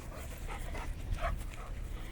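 A recovering dog whines and whimpers softly at close range, thin high cries over low rumbling handling noise, with no clear talk.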